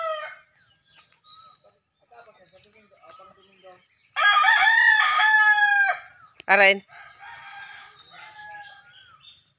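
A rooster crows loudly and close, one long drawn-out call followed by a short sharp burst, after quiet stretches with faint clucks and a brief voice nearby.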